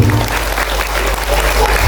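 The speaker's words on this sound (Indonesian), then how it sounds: "Tepuk tangan buat Idris" An audience, largely children, bursts into loud, steady applause at a children's Islamic storytelling event for National Santri Day, cheering on a character named Idris; the dense clapping fills the whole stretch without a break.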